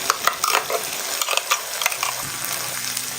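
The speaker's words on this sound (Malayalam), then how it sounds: "ഈ അരപ്പും കൂടി ചേർത്ത് കൊടുത്ത് ഒന്ന് ഇളക്കി കൊടുക്കാം." Ground paste is stirred into a tomato and urad dal curry frying in a pan, giving a close, continuous sizzle with a run of quick spoon scrapes and clinks early on, then a gentler bubbling hiss.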